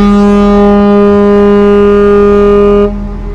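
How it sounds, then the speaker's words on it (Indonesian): A loud, sustained ferry horn blast with a deep steady tone, holding for about three seconds before cutting off, leaving low engine rumble. "Klakson dari Portling 7."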